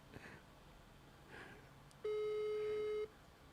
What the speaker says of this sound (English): Try calling him, see if he answers.